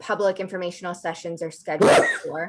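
A sharp, loud sneeze bursts out during a community committee meeting, breaking into a person's steady talk and followed by more speech.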